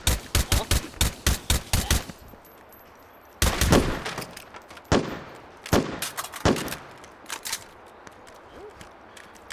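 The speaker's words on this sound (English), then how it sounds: "I don't even know where that shot came from" Gunfire in the VR shooter H3VR: a rapid burst of loud, sharp shots opens, then after a short lull come scattered single and clustered reports, some near and some more distant, with no talking.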